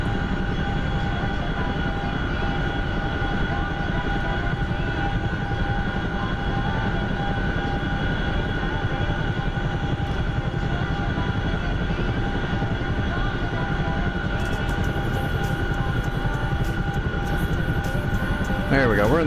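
A helicopter in a video game set in Afghanistan drones steadily and loudly throughout, with a constant thrumming rotor and engine tone and a burst of faint crackling toward the end.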